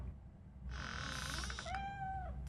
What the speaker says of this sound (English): There you are, kitty.